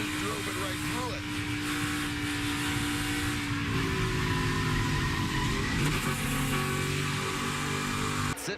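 A NASCAR race truck's engine roars steadily under continuous broadcast commentary, with a strong drone that shifts in pitch as it accelerates and other engines blending in.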